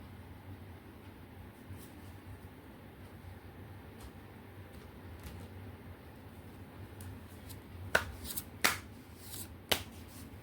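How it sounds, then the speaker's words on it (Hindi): Tarot cards being pulled from a deck, a few quick close crisp slaps and flicks near the end over a low, steady background hum, with no talking. "I am taking out the card."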